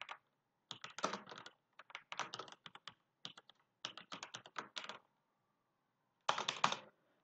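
Bursts of rapid clicking on a computer keyboard while code is typed, short runs of keystrokes separated by brief pauses, close and clear with no talk.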